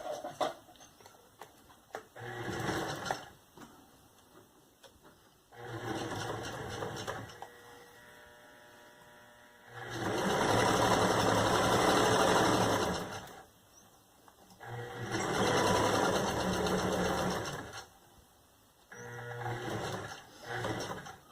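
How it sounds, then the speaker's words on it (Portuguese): A domestic sewing machine stitches a straight seam along a zipper in several bursts of rapid whirring stitching, separated by short pauses, close and fairly loud, with no talk. "E vou passar uma costura reta aqui, tá?"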